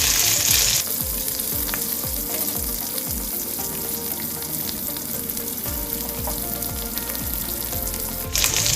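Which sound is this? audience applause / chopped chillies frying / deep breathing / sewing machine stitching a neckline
chopped chillies frying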